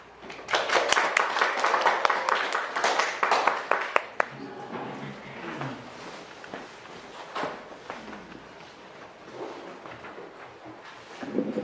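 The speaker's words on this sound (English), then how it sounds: "please let us welcome today's GIC talk speaker, Billie Pritchett, with a big round of applause" Audience in a lecture hall claps to welcome a speaker at a talk, a burst of scattered applause for about four seconds that thins out, followed by footsteps and shuffling as the speaker comes up.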